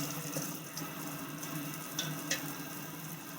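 Water runs steadily from a tap into a baking pan of chicken seasoned with mustard, a continuous near, moderate splashing wash with a couple of faint clinks.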